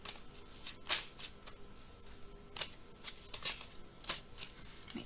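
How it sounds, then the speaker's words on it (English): A deck of playing cards being shuffled close by: a series of brisk riffles and soft flicking snaps in an irregular rhythm, fairly quiet, with no talking over them. "I will do a quick shuffle before I put the cards away"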